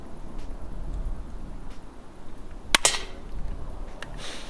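Gunshots in a video game shooting match: one sharp, loud crack and a quick second report stand out over a low rumbling background, with a few fainter clicks around them.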